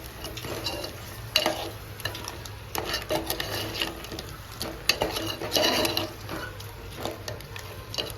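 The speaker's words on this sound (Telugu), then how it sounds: "పీతలు వేసుకున్న తర్వాత మంచిగా కలిదిప్పుకోవాలి." Crabs stirred in a pan of crab curry, with continuous scraping and clinking of a utensil against the pot over a low sizzle, close and steady and with no talking.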